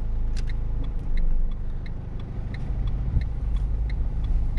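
A car drives during a driving lesson, heard from inside the cabin as a steady engine and road hum with a regular ticking indicator running through it and no talk.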